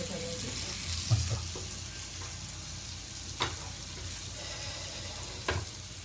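Karli fish shallow-frying in oil in a pan, with a steady close hiss and sizzle throughout and a few soft clinks of a utensil turning the pieces.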